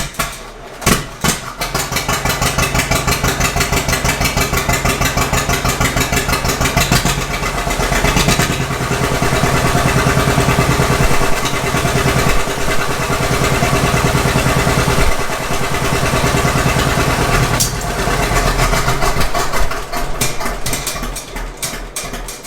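A John Deere 630 tractor engine cranks and fires up, then settles into a loud, steady, chugging idle heard up close for about twenty seconds, with a few uneven beats along the way.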